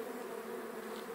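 A honey bee swarm in a standard hive box, a dense, steady buzzing close by that fills the brief moment.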